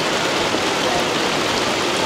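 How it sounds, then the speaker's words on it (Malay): Rain falls steadily at the Kuching cultural village in Sarawak, a dense continuous hiss of water with no breaks or talk. "Memandangkan hujan tu lah."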